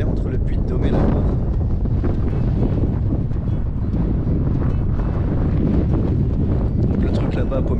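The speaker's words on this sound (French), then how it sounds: "il y a beaucoup de vent" Strong wind buffets the microphone in a loud, continuous rumble on a hilltop near the border of Puy-de-Dôme and Loire during a motorcycle road trip; muffled speech sits under the roar.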